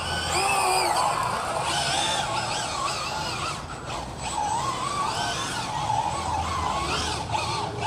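An HPI Maverick QuantumRX Flux, a 1/8-scale 4WD brushless RC rally car, spins out, its high electric motor whine rising and falling continuously throughout, loud and near, with sliding and crunching underneath.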